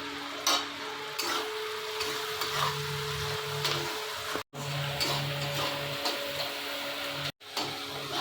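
Onions fry in a pan with a continuous close sizzle, scattered light ticks and stirring scrapes, and two brief dropouts to near silence.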